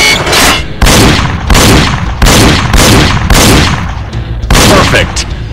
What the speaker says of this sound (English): Welcome to the pistol range. Round one. Shoot each target.